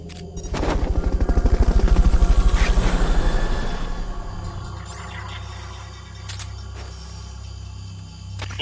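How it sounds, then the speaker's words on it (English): A helicopter in the video game Metal Gear Solid Peace Walker thuds with a fast, loud rotor chop that swells and then fades, with sharp game effects and clicks following. "Fulton recovery subject confirmed onboard helicopter."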